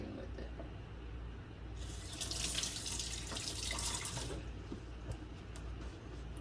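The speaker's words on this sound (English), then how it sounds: "I'm gonna wash my hand because I grabbed the thing with it" Tap water runs over hands at a kitchen sink while cooking barbacoa, a steady rush of running water lasting a few seconds before shutting off, close by with no talk.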